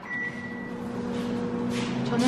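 A microwave oven heats frozen broccoli with a little water, giving a steady low hum with a faint tone and rising background noise near the end.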